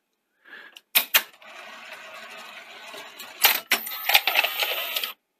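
Eject mechanism of a Sony SL-C9 Betamax deck: sharp clunks at the start, then a whirring, grinding motor run with further loud clicks and clatters near the end, close and alone before stopping abruptly.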